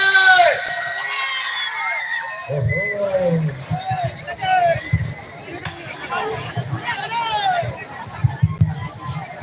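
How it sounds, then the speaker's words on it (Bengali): A large crowd at a live stage show shouts and cheers loudly in a burst of overlapping voices, rising again in waves. "এখানে একবার সবাই একটু জোর করে চিৎকার হবে"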